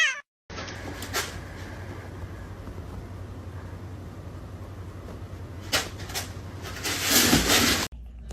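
A cat meows once or twice over a steady low hum, with a louder burst near the end; no one speaks.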